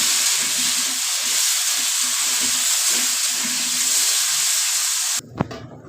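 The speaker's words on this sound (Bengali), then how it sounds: "আমি এবার আলুটা পেঁয়াজের সঙ্গে ভেজে নেব" Boiled potatoes frying with onions in a pan make a loud steady hissing sizzle that runs for about five seconds, then cuts off abruptly, followed by a single clack.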